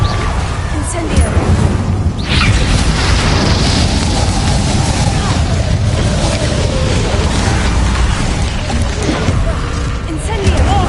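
Rapid spell explosions and fire blasts in the video game Hogwarts Legacy, a loud, steady barrage of booms and crackling bursts under shouted voices.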